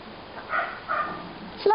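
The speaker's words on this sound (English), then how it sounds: "Look, it's another doggy." A dachshund or a similar small dog gives a few short yips and barks near a yard, and the last bark is sharp. There is faint background noise under it.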